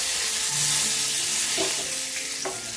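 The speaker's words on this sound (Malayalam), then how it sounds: "എണ്ണ ചൂടായിട്ടുണ്ട്. ഇനി ഞാൻ ഇതിനകത്തേക്ക് 1 ടീസ്പൂൺ കടുകിടുക." Mustard seeds, dried red chillies and curry leaves crackle and sizzle in hot oil in a pan, a dense close frying hiss with a few sharp pops and stirring clatter, and no voices.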